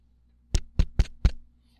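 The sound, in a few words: knocking at a gate, story sound effect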